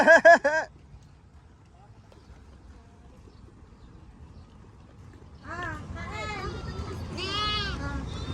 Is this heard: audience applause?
no